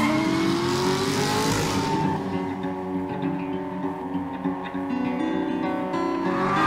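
A 2011 Chevrolet Corvette in a TV commercial roars close and loud, its engine revving and accelerating with strong harmonic tones and a brief burst of hiss early on.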